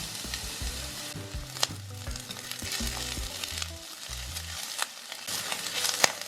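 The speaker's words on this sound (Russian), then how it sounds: "Отправляю обжариваться лук до красивого золотистого цвета." Onion sizzles and crackles in hot oil, a steady frying hiss with occasional stirring clinks and scrapes, close up and without speech.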